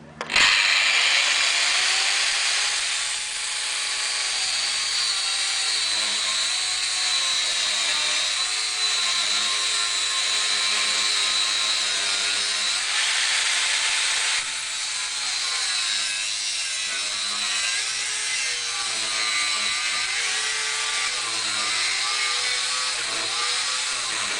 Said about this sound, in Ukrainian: Все обварили, тепер ріжемо болгаркою